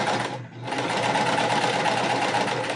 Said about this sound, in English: you can see I'm just gonna chain stitch them.